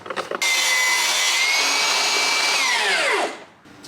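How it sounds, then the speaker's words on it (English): A power saw, likely a circular saw, cuts through a piece of plywood in one long, loud, sustained whine close by, then winds down. "I'm gonna cut a piece of plywood at 3 and 4 3/4."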